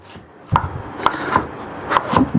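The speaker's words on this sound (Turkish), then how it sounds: "Bu arada biberlerini doğramaya başlıyorum." A knife chops through red kapya and green peppers on a cutting board in sharp, evenly spaced strokes, about five thuds with a crisp crunch, close and clear.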